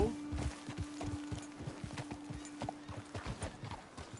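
Horse hooves clip-clopping in Red Dead Redemption II, a quick irregular run of close hoofbeats from walking horses, with low game ambience and a steady hum beneath.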